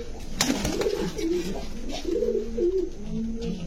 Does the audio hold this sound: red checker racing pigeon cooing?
yes